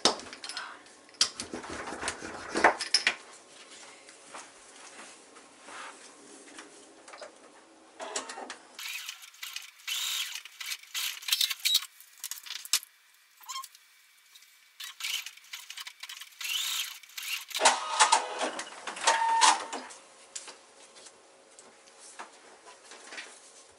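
Sewing machine stitching fabric pieces onto a paper foundation for paper piecing, quiet uneven bursts of mechanical whirring and clicking with pauses, fairly faint and close.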